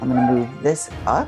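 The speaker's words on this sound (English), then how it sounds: "apologize that my dog's in the background" A dog yips and barks a few times in the background at home while a person talks over it.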